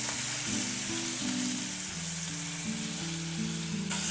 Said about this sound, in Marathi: तेल छान गरम झालंय. मोहरी, हिंग, कढीपत्ता, बारीक चिरलेला कांदा आणि टोमॅटो.